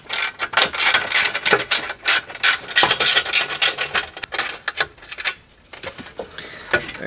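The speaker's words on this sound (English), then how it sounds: "next it's time to remove this metal kick plate, and this is also held in by 7mm screws" Small 7mm screws come out of a metal kick plate under the dashboard of a Chevy Monte Carlo or Impala, giving rapid clicking, ratcheting and scraping metallic taps up close, in irregular bursts with brief pauses.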